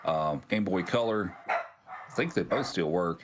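Dogs bark in the background during a podcast conversation about retro game handhelds, with sharp, repeated bursts heard under steady, close talking throughout.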